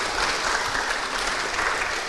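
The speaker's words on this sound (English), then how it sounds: "All right, give applause, please." Seminar audience at a philosophy school event applauding, a dense, even roar of clapping from a sizeable crowd that holds steady and fairly loud for the whole stretch.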